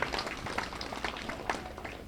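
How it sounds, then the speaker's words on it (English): A short, dense burst of audience clapping honoring a fire department member at a county anniversary gathering, steady and fairly close, with no talking over it. "Give him a round of applause."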